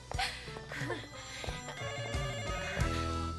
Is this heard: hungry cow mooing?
no